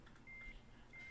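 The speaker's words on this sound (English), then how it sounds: "Ew, that was a gross beep." A microwave oven gives two short, flat electronic beeps, quiet and separated by a brief gap, over a faint background hiss.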